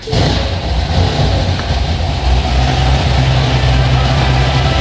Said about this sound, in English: While she's on the lift, I'm gonna fire her up and we're gonna see if she'll run through the gears or not